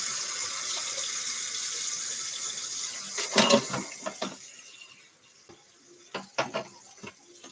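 A kitchen sink tap runs in a steady hiss while something is rinsed, then the flow fades and gives way to scattered clinks and knocks of dishes being handled.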